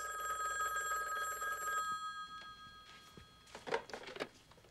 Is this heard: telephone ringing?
yes